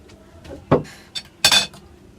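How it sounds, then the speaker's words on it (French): A homemade natural hair product mixture is stirred in a bowl, giving a few sharp, close clinks and scrapes of utensil against the bowl, separated by short pauses. "Pareillement, on va bien mélanger."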